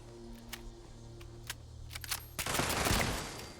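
Turret gunfire in the video game Fallout 76: scattered sharp clicks and shots, then a sustained loud rattling burst toward the end over a low background hum.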